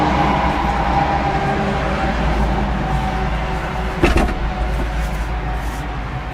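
Diesel engine of a 2020 Kubota RTV X1100C side-by-side idling close by, a loud, steady low rumble that runs throughout, with a brief rattle or knock about two-thirds of the way through.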